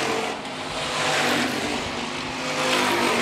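Hobby stock race cars roar around a dirt track at a county raceway, a continuous loud engine drone that swells and fades as cars pass, heard from a distance without talk.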